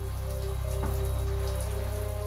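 Shower water runs in a steady, dense spray, a continuous hiss of droplets pattering on a surface, close and unbroken, with no voices.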